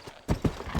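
A horse trots in the Wild West video game Red Dead Redemption, with several close, crisp clip-clop hoof strikes in an uneven rhythm and a faint breathy bit before the first strike.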